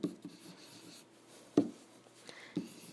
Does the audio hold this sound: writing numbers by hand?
yes